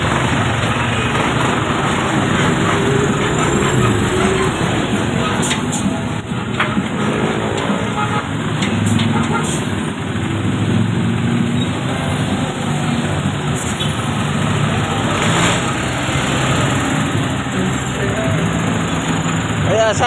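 Steady, loud traffic on a busy highway on Road 10 in Tondo, Manila, with engines idling and vehicles rumbling past continuously, a constant high whine over the din and voices audible in the mix.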